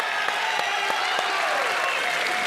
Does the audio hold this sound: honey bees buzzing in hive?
no